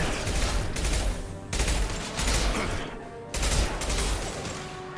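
Rapid bursts of gunfire in Mass Effect 2, three dense volleys of automatic weapon fire with heavy low booms, loud and close, separated by brief gaps.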